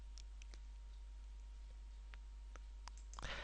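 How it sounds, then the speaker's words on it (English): Scattered sharp computer mouse clicks tick faintly against a quiet background hum, a handful of single taps spaced irregularly, with a small cluster at the end. "I need 3 mouse clicks."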